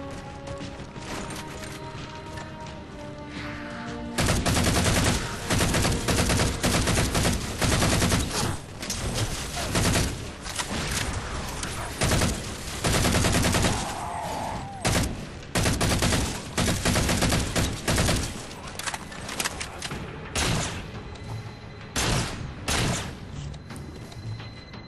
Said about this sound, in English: Don't mind me, I'm just shooting you guys and killing your friends.